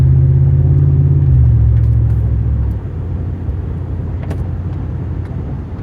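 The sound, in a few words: 2010 Ford F150 Raptor truck transmission downshifting while driving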